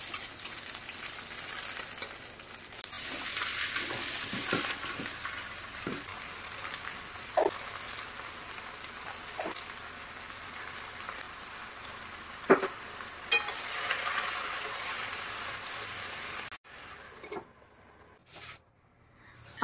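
Potato and onion sabzi fries in a pan with a steady, loud sizzle that runs almost throughout, marked by occasional stirring clinks and scrapes, before it drops abruptly near the end.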